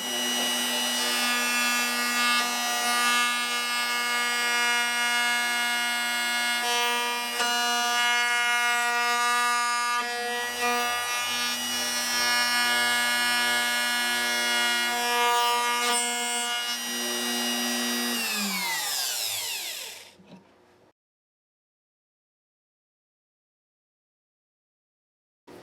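A Bosch Colt router cutting a pinned guitar neck joint gives a loud, steady high-pitched motor whine for about twenty seconds, then winds down in a falling tone and goes silent.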